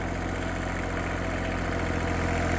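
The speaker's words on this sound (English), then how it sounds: "it's his first time driving the tractor" A 1984 Kubota L235 tractor engine runs steadily and fairly loudly up close, holding an even, continuous rumble.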